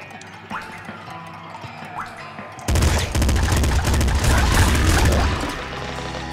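A high-rate gun in Nuclear Throne starts firing after a quieter stretch, pouring out a dense, loud stream of rapid shots that continues to the end.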